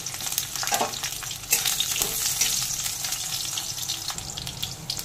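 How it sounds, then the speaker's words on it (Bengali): Brinjal pieces fry in mustard oil with a steady, dense sizzle, broken by a few sharper crackles and spatters as a spatula stirs them through the pan; no one speaks. "এবার বেগুনগুলোকে একটু দিয়ে ভেজে তুলে রাখবো"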